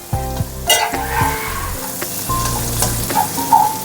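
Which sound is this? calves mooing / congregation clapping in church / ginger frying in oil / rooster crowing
ginger frying in oil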